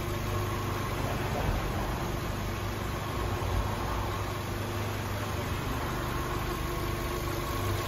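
An Audi car engine idles steadily up close, a constant mid-pitched hum and vibration with no change in revs throughout.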